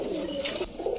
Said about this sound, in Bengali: এটা হচ্ছে ব্ল্যাক শ্যাডেল আউল রানিং